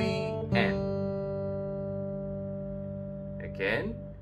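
Fingerstyle acoustic guitar plays the opening bar of the hymn Be Thou My Vision, with a few plucked notes ringing out over a sustained low string, close and clear.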